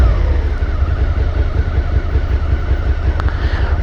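A Suzuki SV650 motorcycle runs with a loud, steady, close engine rumble throughout, with no clear break or change as it shifts gears and comes to a stop.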